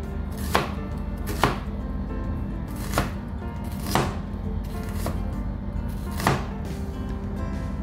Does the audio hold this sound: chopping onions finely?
yes